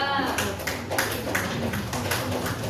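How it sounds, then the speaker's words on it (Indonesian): Classroom applause for a student group after a presentation, a burst of scattered clapping with uneven taps over a low hum of room noise. "beri tepuk tangan untuk kelompok 2"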